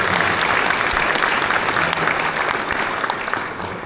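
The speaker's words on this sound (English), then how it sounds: "Can you clap for them?" A gathering of Kenyans in Qatar claps together in steady, dense applause, loud and even for a few seconds before easing slightly at the end.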